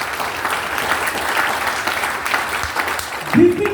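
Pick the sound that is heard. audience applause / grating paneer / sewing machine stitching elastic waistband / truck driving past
audience applause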